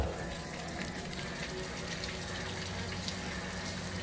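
A newly installed bilge pump on a Sea-Doo GTX Limited jet ski discharges water in a steady, close gushing stream that continues evenly throughout, with no voices.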